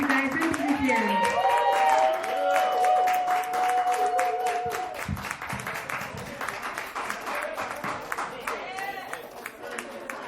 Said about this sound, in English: Another round of applause for Gutierrez.